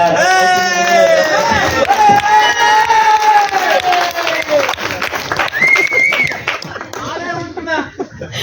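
Clapping and light cheering ripple through the crowd at a film launch ceremony for a Tamil movie, mixed with music and voices, rising and falling over several seconds.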